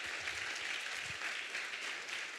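A church congregation applauds at a service, a steady wash of clapping from many hands that holds evenly for the whole stretch with no voices above it.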